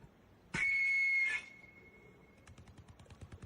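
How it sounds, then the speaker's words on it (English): A sharp, steady high whistle blows for under a second, then a thin tone lingers faintly while soft rhythmic clicks follow. "That whistle sounds cool as hell, though."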